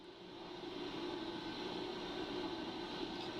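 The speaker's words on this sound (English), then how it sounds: "I'm going to start the lathe back up again" A brake rotor lathe with cutting tips spins up into a steady, broad mechanical whir and hum that holds at an even level throughout, with no voices.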